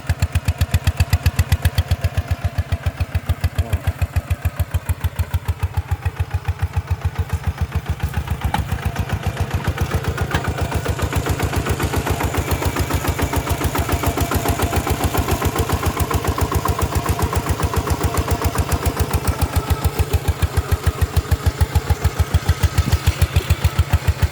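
A small single-cylinder engine on a walk-behind tractor with front cage wheels, used for ploughing a field, runs with a fast, even chugging pulse throughout, steady and moderately near, with no talking.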